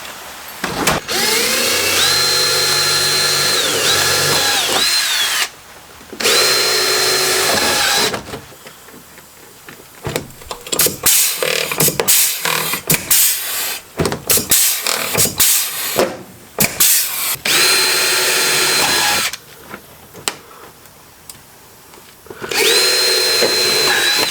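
A power tool driving bolts on a speedway car's front end, loud bursts of whirring drill noise separated by short pauses and clanks, with no voices.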